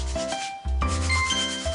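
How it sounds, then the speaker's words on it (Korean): Sandpaper scrubs steadily across the face of a metal nameplate with raised lettering, a loud close rasping in repeated strokes with a brief pause midway and faint metallic ringing. "문패 앞면을 곱게 사포질하면 양각으로 튀어나온 이름만 사포에 갈려"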